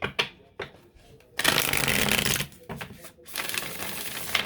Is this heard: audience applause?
no